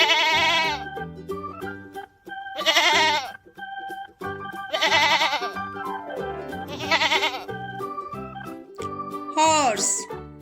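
A goat bleats repeatedly, four loud drawn-out calls spaced about two seconds apart with a shorter final cry, over a light musical background.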